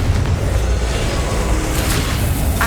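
A Confringo blasting curse exploding in Hogwarts Legacy, a loud, sustained low boom with rumbling debris throughout.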